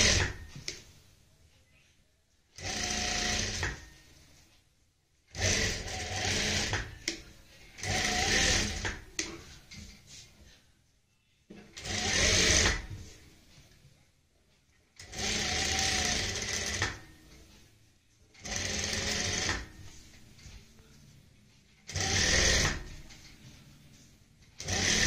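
A sewing machine stitches a garment neckline backed with buckram, in repeated bursts of several seconds each, separated by short silent pauses, fairly close and clear.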